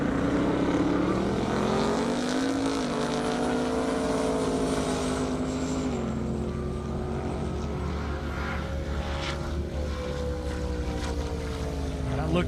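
A 1956 Chevrolet race car makes a high-speed run of over 180 mph on a half-mile airstrip at a 2021 Indiana event. Its engine roars loudly and steadily, with the pitch climbing and shifting through the run.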